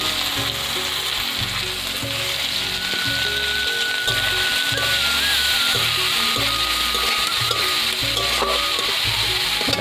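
Grated coconut frying with onion and green chilli in a pan, a steady close sizzle that runs through the whole stretch over a soft tonal background.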